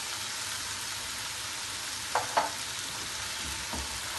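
Noodles stir-fry with vegetables and chicken for chow mein in a hot pan, a steady sizzle with a couple of scraping stir clatters midway and a softer one near the end.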